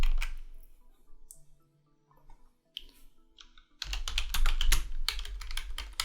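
A search is typed on a computer keyboard, with bursts of close key clicks separated by short pauses, then a faster, denser run of typing at the end.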